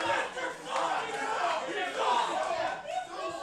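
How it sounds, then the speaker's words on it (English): Wrestling event crowd roaring and cheering continuously as the match begins, a loud, dense wall of voices with shouts rising and falling throughout. "this crowd is already well involved"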